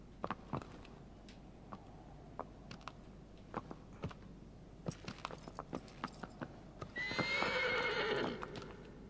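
A horse whinnies loudly near the end of a scene from the video game Shadow of the Colossus, after a stretch of clip-clopping hooves and scattered game sounds, with no talk over it.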